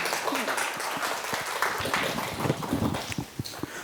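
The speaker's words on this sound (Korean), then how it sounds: "박수로 맞아주시기 바랍니다." An audience at an art museum lecture on posthumanism applauds to welcome the professor, a dense, steady patter of many hands with a few voices mixed in.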